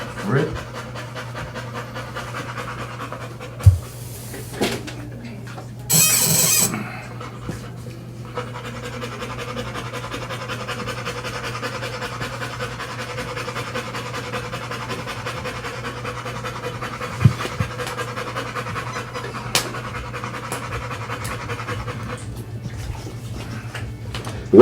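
Diesel the dog panting steadily and rhythmically close by in a studio setting, with a couple of sharp knocks and a scraping thump partway through, no one speaking.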